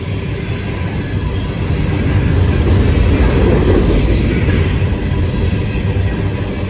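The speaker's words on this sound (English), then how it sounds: "Wow, that's a huge grain train." A large grain freight train rolls over a bouncy bridge, a loud, continuous rumble of wheels and cars close by, with faint squealing and clacking and no voices.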